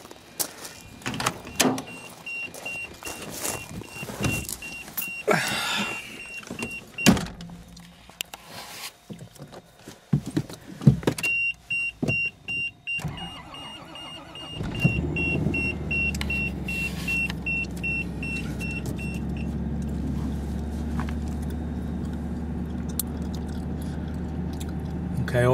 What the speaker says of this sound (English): here's a startup from cold